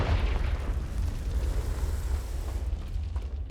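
A Confringo spell explodes in Hogwarts Legacy as a dense, heavy rumble that fills the short stretch from start to end, loud and close, fading slightly toward the close.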